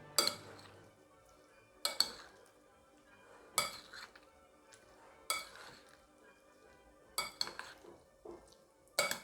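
Banana and pea salad is stirred in a bowl, a spoon knocking and scraping against the dish in about six separate bursts of clinks with quiet pauses between, close and fairly soft.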